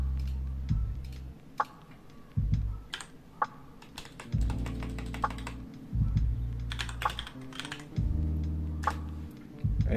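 Computer keyboard keys clicking in quick irregular bursts as a disk-listing command is typed on a laptop or PC, close and fairly loud, with short pauses between runs of keystrokes and no talking.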